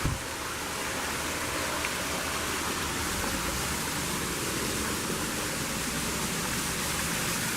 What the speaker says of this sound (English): There's a nice little cascade up above.